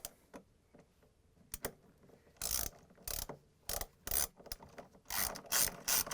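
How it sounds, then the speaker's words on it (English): A Torx 30 socket wrench ratchets in short bursts of clicking while a bolt is secured on a Whirlpool/KitchenAid/Maytag washer clutch, close and fairly loud, in several separate strokes with pauses between them. "I'm going to use the same Torx 30 socket wrench."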